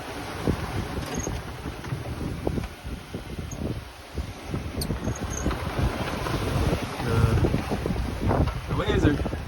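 Strong wind buffets a sailboat at sea off Fair Isle in a gale, a steady roaring rush of wind noise over the microphone with water sloshing and thumping against the hull throughout.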